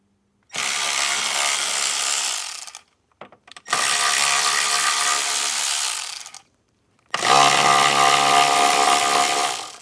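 A power tool drives out the screws holding the factory speaker pod in a 2024 Jeep Wrangler. Three loud, sustained whirring bursts of a couple of seconds each are separated by short pauses, with brief clicks between them.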